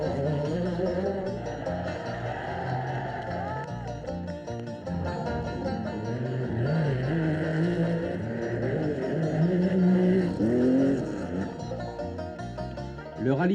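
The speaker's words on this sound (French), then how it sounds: "Le rallye sprint, une course qui ne compte que pour le plaisir des yeux et des pilotes." Rally sprint cars race around the Nîmes arena, their engines rising and falling in steady revving passes at moderate distance over a constant crowd-like background.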